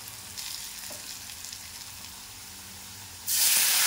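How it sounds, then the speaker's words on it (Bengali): Potatoes sautéing with spices in a pan give a steady close sizzle and scraping stir, then a sudden louder hiss near the end; no one speaks. "এবার আলুটাকে ভালোভাবে কষিয়ে নেব।"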